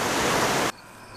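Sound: waterfall

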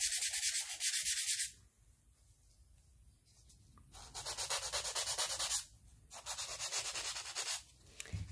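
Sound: sanding a painted rock with sandpaper

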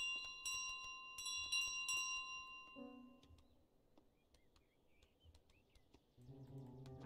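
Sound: bell ringing in Untitled Goose Game, video game

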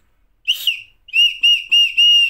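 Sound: toy whistle from a snack packet being blown

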